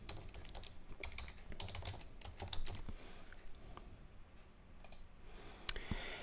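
Fingers tap a computer keyboard while a username and password are entered, a quick, irregular run of soft clicks and key presses close by, with short pauses and one sharper click near the end.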